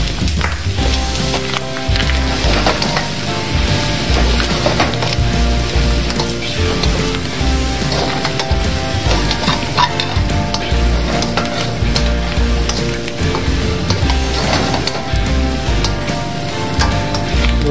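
Dinuguan, a Filipino pork blood stew, being stirred in a pot, a steady wet sizzle with scraping and bubbling running continuously and loudly close by.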